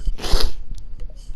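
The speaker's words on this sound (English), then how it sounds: "I gotta sneeze again, why?" A single forceful sneeze bursts out near the start, followed by quieter breathy snorts and faint mouth noises.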